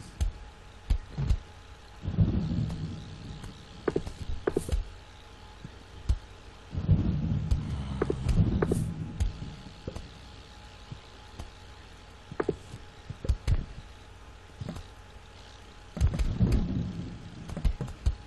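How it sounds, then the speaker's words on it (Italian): Lightning thunder and rain in the video game Plants vs. Zombies: a steady hiss of rain under several loud, rumbling thunder cracks that roll in and fade, with no talking. "mi scusi, un altro fulmine"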